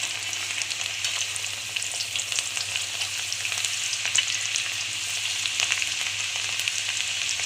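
A Diwali savoury snack fries in hot oil over a high flame, a steady, bright sizzle with scattered crackles and pops that holds close and even throughout, with no talking.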